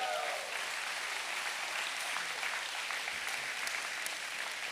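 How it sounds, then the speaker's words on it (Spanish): A church congregation breaks into applause during a sermon, a dense steady clapping that fills the room at moderate loudness from start to finish with no voices on top. "¿Alguien le aplaude al Rey?"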